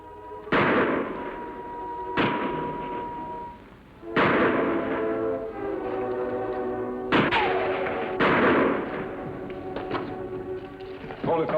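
Gunfire in a 1950s television western shootout, with several loud, sharp shots spaced a second or two apart, each ringing out in a long echoing tail over a steady background.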